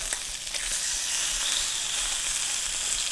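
Chicken frying in a pan right after being flipped, a close, steady sizzle and hiss with a few brief clatters near the start, and no talk.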